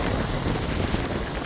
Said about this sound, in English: super windy, and cold.